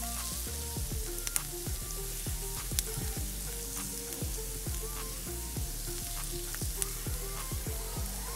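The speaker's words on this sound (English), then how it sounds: "I'm going to add in the garlic." Garlic sautés in a pan over low heat, giving a steady, close sizzle and frying crackle with regular soft knocks throughout and no talking.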